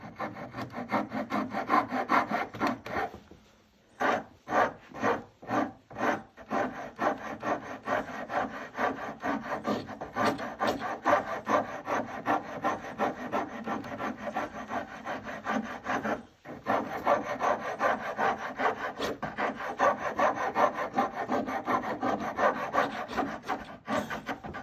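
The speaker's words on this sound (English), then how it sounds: "Flip it over, and let's have a go with the rasp." Steady rasping of a hand rasp filing a bevel into a piece of wood, with a brief pause and a run of slower separate strokes before continuous back-and-forth scraping resumes, close and loud.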